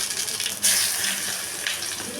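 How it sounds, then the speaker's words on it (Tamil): Mustard seeds crackle and sizzle in hot oil for chicken gravy, a steady bright hiss with a sharper burst partway through, continuous and fairly close. "எண்ணெய் ஊற்றி வச்சுங்க. கடுகு போட்டாச்சுங்க."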